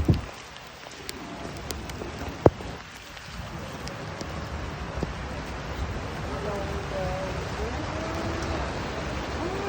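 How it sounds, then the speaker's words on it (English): Heavy rain pours down on a street in Amsterdam, a steady broadband hiss of drops that runs through the whole stretch. A few sharp taps and knocks cut through near the start, and there is some faint background noise. "बहुत तेज बारिश."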